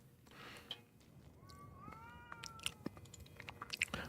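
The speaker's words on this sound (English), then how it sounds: "if the cat fighting that's been going on inside of Sorcery has been audible this whole time" Cats yowling and meowing in a fight inside the video game Sorcery!, with rising wails and short sharp cries over a steady background hum, moderately faint.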